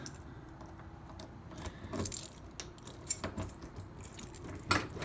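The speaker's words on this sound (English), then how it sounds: "Got the original keys." Original keys for a 1966 Ford Mustang jangle in a series of close metallic clinks and rattles, with one sharper chime near the end over a faint background hum.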